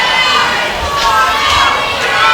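A wrestling crowd jeers Surza with a loud, continuous, dense mass of shouting and booing, close and sustained over a couple of seconds with no distinct individual voice.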